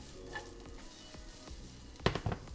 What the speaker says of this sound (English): Once the olive oil is hot, we put fennel in.